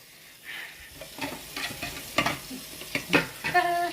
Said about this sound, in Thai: ล้างถ้วยให้ยายนะลูกนะ